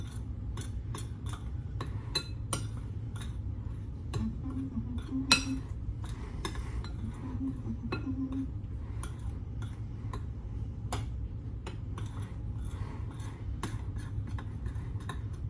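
Dry ingredients for a nutty fruitcake, flour with a pinch of salt, being stirred together in a bowl: a steady run of light clinks and ticks of a utensil against the bowl, close by, with no talking.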